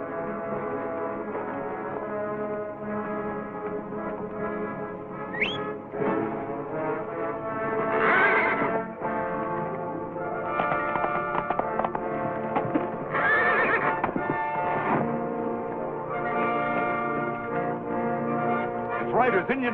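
A horse whinnies loudly several times in a 1949 western serial, shrill neighs rising over a steady musical score, with faint hoofbeats clip-clopping in between.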